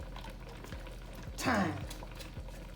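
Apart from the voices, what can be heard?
garlic and thyme sautéing in coconut oil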